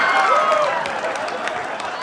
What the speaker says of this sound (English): I can't believe you clapped about that.